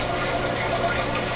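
Water pumped up a hydroponic tower garden rains back down inside it in a continuous, even splashing rush, moderately loud and steady throughout, with no voices.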